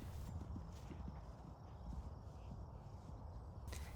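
A horse moving across pasture, its hooves thudding in soft, uneven clip-clops on the ground, moderately near but faint under a low outdoor background hiss.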